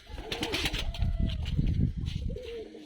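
Soft, repeated cooing of pigeons close by, several throaty calls overlapping with light rustling in the background.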